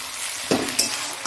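Onion frying in a pan, a steady close sizzle with a couple of soft stirring knocks and a faint clink, no voices.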